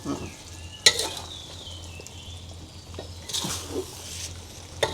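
Chicken rendang frying in a pan sizzles steadily as a spatula scrapes and stirs through it, with a couple of sharp knocks against the pan, close and clear.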